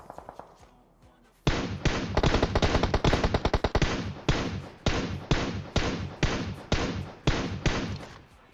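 Bursts of rapid gunfire in PUBG Mobile, sharp loud shots fired in quick strings with brief pauses between volleys, after a quiet start.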